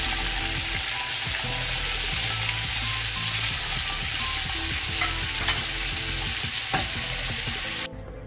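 Cubes of paneer sizzle steadily in hot oil in a pan while browning for palak paneer, a continuous close frying hiss with occasional stirring scrapes and small pops, ending abruptly.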